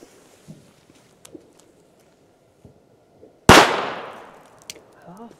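A single Funke A-Böller firecracker goes off outdoors on New Year's Eve, one sharp loud bang with a decaying echo, after quiet crackle and distant pops.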